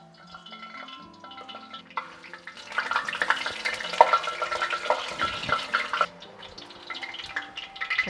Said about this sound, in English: you do want it to be quite hot in order that the dough doesn't just soak up all of the oil.